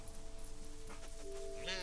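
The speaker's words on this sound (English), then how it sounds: "At least it's just one gaggle of sheep this time." Sheep bleat in the Farewell North game, a few quiet wavering calls over soft background ambience, with one closer, sharper bleat at the very end.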